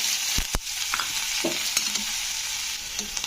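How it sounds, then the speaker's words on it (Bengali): Crushed garlic fries in hot mustard oil over very low heat, giving a steady soft sizzle broken by a few sharp stirring scrapes of a utensil in the pan, close by and with no voices. "তো রসুনগুলোকে একটু ভেজে নিতে হবে"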